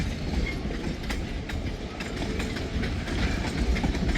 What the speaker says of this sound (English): good hefty monster train now